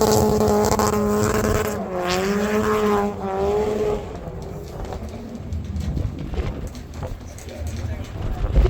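A Toyota 86 drift car with an unknown engine runs hard on a drift course at a competition, its engine note loud and sustained, rising and falling in pitch early on before settling into rougher, dimmer running.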